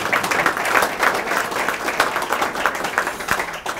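Audience applause at a 2019 annual meeting: steady, dense clapping from a crowd that holds at an even level for the whole stretch, with no voices on top.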